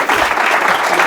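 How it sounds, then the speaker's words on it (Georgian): A brief burst of dense clapping from a studio audience on a comedy show, loud and continuous for about a second. "ეს ტაში რა არის?"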